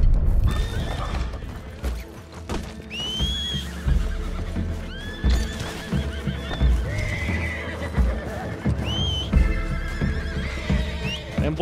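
Horses in the video game Red Dead Redemption 2 give several loud, shrill neighs and whinnies over rhythmic clip-clopping hooves and low thuds, all close and continuous, with no voices present.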